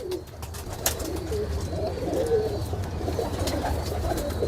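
Pure Kamagar Teddy pigeons give repeated low coos close up over a steady background hum, the throaty calls rolling on without speech.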